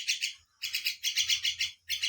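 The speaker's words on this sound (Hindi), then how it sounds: "देख सकते संगवारी हमारे मैना का" A pet myna bird gives loud, close chirps in clipped, repeated bursts with short silent gaps between them, and no voices can be heard.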